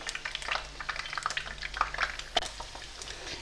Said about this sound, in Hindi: ये देखिए ये अंडे फ्राई हो गए